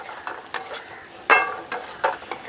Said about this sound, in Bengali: আলুগুলো এখন মশলার সঙ্গে মিশিয়ে নেব।